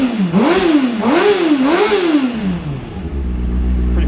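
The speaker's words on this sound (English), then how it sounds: "we'll rev it up." A motorcycle engine close by and loud revs in three quick rising and falling swells, then drops back to a low steady idle.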